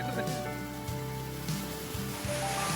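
Heavy torrential rain pours over city streets in Ajmer as a steady, dense hiss that stays even and fairly soft throughout, with a low continuous rumble underneath.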